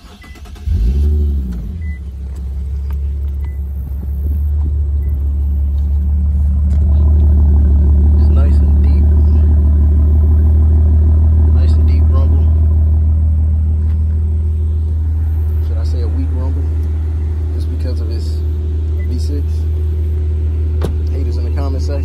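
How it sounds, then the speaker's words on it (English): Exhaust of a 2014 Infiniti Q50s AWD being revved: a deep engine rumble swelling after a brief start, holding a loud steady drone, then easing slightly while staying strong to the end. "I just love the exhaust note on this car."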